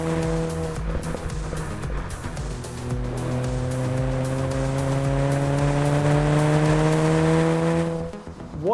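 A track-prepped Mini Cooper JCW spins out on a racetrack. Its engine drones loud and steady while tires squeal in rising and falling tones, then the engine cuts back near the end.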